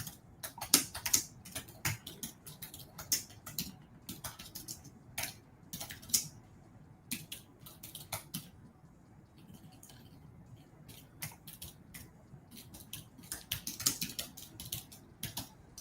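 Computer keyboard typing in uneven bursts of quick clicks and taps, close and fairly quiet, with pauses between runs of keystrokes over a faint room background and no talking.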